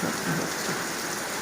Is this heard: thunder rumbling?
yes